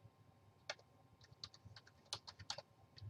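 Keys clack on a small Logitech keyboard in short, uneven bursts of close, crisp taps over a quiet background hum.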